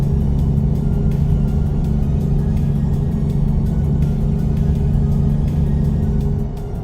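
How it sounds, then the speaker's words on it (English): A V8 truck engine in American Truck Simulator drones at a steady low rumble throughout, holding a constant loud tone with no talking over it. "the sound of that V8 is almost as cool as the 5-cylinder"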